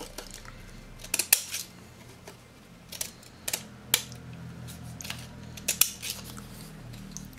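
Wave-edge craft scissors cutting during a craft project: a series of crisp snips and clicks at uneven intervals, some in quick pairs, close and fairly loud in a quiet room with no talk.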